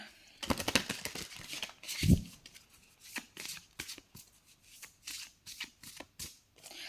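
Tarot cards being shuffled by hand up close, a run of crisp riffling and flicking bursts in an uneven rhythm, with no talk.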